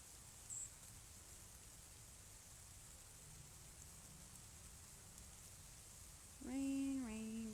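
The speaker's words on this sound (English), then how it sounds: "Rain, rain, go away." Soft, steady rain falling outdoors, a faint even hiss with a brief tonal sound near the end.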